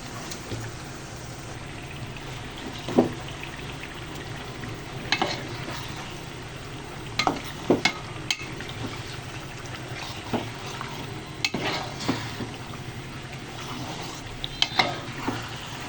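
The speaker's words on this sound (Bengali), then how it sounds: "ভালোভাবে মশলা মেখে নিলাম।" Beef being mixed with spices in a cooking pan gives a soft low sizzle, broken by scattered scraping and clacking strokes of a spoon stirring at an uneven pace, with no voices.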